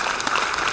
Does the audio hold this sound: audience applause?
yes